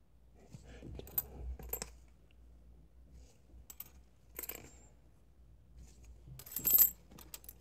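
Metal coins, older Korean 10-won pieces, are handled and sorted on a surface: sparse, close clinks and small jangles arrive in scattered bursts, with one louder cluster of clatter near the end and quiet pauses between.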